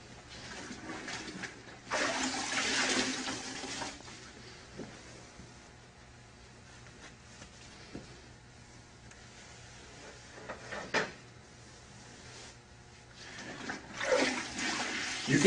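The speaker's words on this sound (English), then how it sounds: "Let's rinse that sponge out." A grout sponge used on Mapei Kerapoxy epoxy grout is rinsed in a bucket of water, giving two bursts of sloshing and splashing separated by quieter drips and handling noises.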